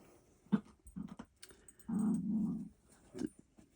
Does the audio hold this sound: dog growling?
yes